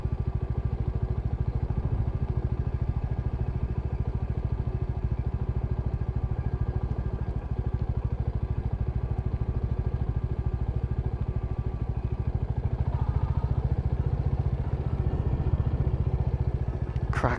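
A Royal Enfield Classic motorcycle ridden off-road along a dry trail gives a steady, close engine rumble with a low throbbing beat, unbroken for the whole stretch and with no talking.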